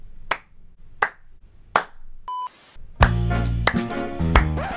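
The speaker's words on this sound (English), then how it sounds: "you remember what the previous clap test sounded like with a big echo?" Three single hand claps, evenly spaced and close, ring out in an acoustically treated home studio with very short decay, followed by a burst of loud music.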